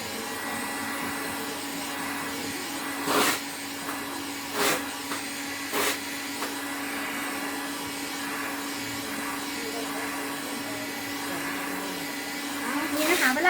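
A heat gun blows hot air over heat-shrink tubing with a steady, close, whooshing motor roar that runs throughout, and a few brief knocks sound over it.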